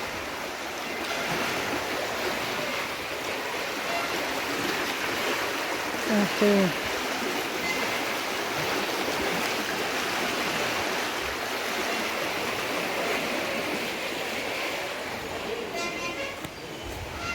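Water rushing steadily at Thumboormuzhi, a broad continuous roar of flow near a shutter, loud and unbroken throughout, with a brief spoken word partway through.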